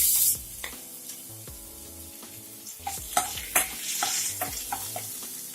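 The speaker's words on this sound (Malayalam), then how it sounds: "എണ്ണ ചൂടായിട്ടുണ്ട്. അതിലേക്ക് നമ്മൾ അരിഞ്ഞു വെച്ചിരിക്കുന്ന ഇഞ്ചി ചേർത്ത് കൊടുക്കാം." Chopped ginger dropped into hot oil in a pan, crackling and sizzling up close, with clattering spoon stirs that grow more frequent toward the end and no talking.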